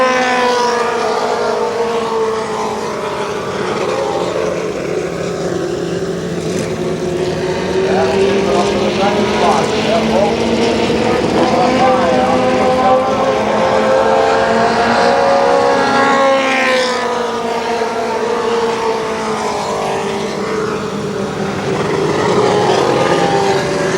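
Pro 4 midget race cars roar around Kil Kare Speedway, engines droning loud and continuous with shifting pitch as the pack battles, while an announcer talks over the racing throughout.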